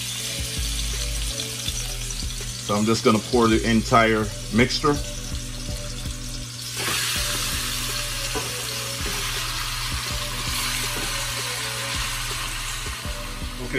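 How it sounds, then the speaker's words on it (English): Chicken pieces sear and sizzle in hot oil for Jamaican brown stew chicken, a steady close frying hiss that fills the clip, with a person talking briefly near the start. "Once you hear that nice little sear,"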